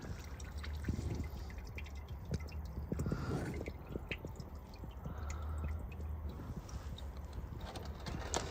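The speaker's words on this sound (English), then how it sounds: "So we got a good bit dripping still." Used engine oil drips from a 2017 Nissan Frontier S during an oil change, a steady scatter of small wet taps and splats in a garage, fairly close and with no voices.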